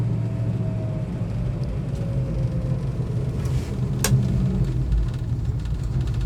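A 1965 Fastback Mustang with a 5-speed manual transmission driving in first gear, its engine giving a steady, close, low rumble inside the cabin, with one brief sharp click partway through.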